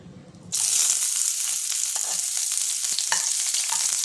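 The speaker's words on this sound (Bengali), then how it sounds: "তেলটা আমার গরম হয়ে গেছে, এবার আমি পেঁয়াজটা দিয়ে দেবো।" Sliced onions for a Bengali aloo chingri dish dropped into hot oil, bursting into a loud, steady close-up sizzle after a brief quiet moment, with occasional stirring scrapes.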